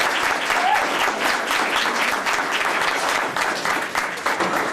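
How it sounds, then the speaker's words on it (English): An audience at an organizational board meeting applauds the newly sworn-in board, a loud close burst of clapping that holds steady and begins thinning toward the end. "I would like everyone to applaud the new board."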